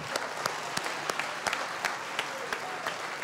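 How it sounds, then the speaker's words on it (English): An audience at a 25th anniversary gala claps in a burst of scattered, sharp individual hand claps over a low crowd murmur, moderately loud and fairly close. "Ladies and gentlemen, please clap your hands one time."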